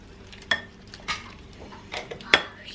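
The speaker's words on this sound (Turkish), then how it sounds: "Şimdi karıştırıyorum." A spoon stirs a chocolate mixture in a pot, giving a few sharp clinks and scrapes against the metal at irregular moments, close and moderately loud over a quiet kitchen background.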